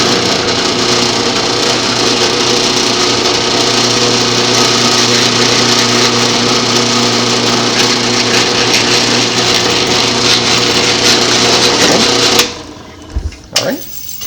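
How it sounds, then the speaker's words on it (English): A power drill whines steadily while boring a 3/8-inch hole through a wooden base, loud and close, running continuously before cutting off, followed by a few brief knocks. "drill a 3/8 hole through this base"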